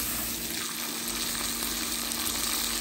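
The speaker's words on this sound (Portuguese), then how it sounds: "refogando a nossa cebola" Onion and garlic sauté in a pan with a dense, steady sizzling hiss that runs without a break, close and fairly loud, with no voices over it.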